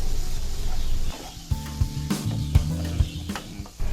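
Fish dropped into hot oily masala with tomato, a frying hiss at first, then bursts of sizzling broken by several knocks and scrapes of a utensil against the pan.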